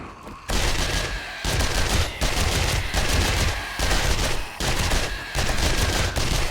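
SMG fire during a horde night in the video game 7 Days to Die comes as repeated loud bursts of rapid automatic shots, separated by short pauses.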